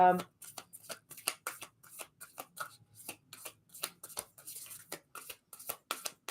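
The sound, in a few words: shuffling tarot cards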